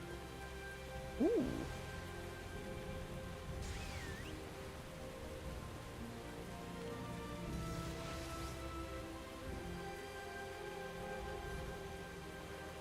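Steady storm rain hisses continuously in World of Warcraft, a soft, even wash of droplets with faint wind, under a brief quiet exclamation and some distant tonal game sounds.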